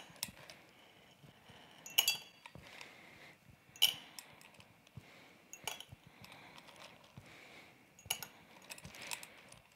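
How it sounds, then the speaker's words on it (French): Pieces of dry ice dropped one by one into a glass Erlenmeyer flask, giving several sharp clinks and taps in an irregular rhythm, close and fairly quiet, with no talk. "on va mettre quelques glaçons de carboglace à l'intérieur."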